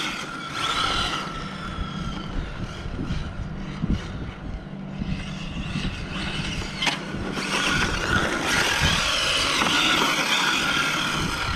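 A Habao RC car driving outdoors, its electric motor whining and rising in pitch as it approaches and speeds up, with steady background noise throughout.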